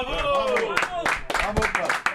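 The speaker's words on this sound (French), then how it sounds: "On applaudit Paul de Saint-Cernard" A radio studio audience claps for a guest comedian while a voice speaks over it, with scattered sharp hand claps breaking through the talk.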